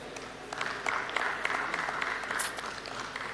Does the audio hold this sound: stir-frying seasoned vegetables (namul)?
no